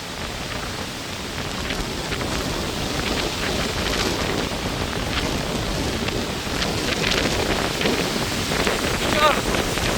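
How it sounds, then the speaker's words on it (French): Strong wind gusts roaring through a valley as a thunderstorm front arrives, a dense, continuous broadband rush with rustling and faint crackles, building slightly in force and masking any other sound. "les rafales qui arrivent"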